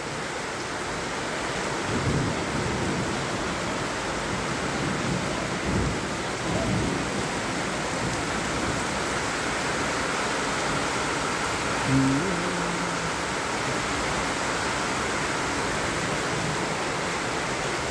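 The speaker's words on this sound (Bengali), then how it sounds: "হঠাৎ করে বৃষ্টি চলে আসে" Steady heavy rain recorded from a second-floor spot above a road with passing traffic, with a few low thunder rumbles rolling under the constant downpour hiss.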